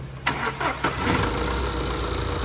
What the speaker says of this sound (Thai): มา สตาร์ท เครื่องดู